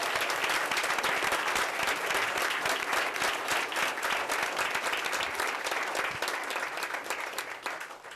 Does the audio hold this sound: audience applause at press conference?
yes